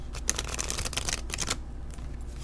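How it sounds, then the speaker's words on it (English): Oracle cards are shuffled in quick, crisp riffling bursts for about a second and a half, then a few softer card flicks. "let's do a quick shuffle"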